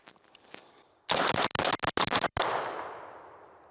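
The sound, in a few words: ATI S60 AK47 rifle firing the rest of a magazine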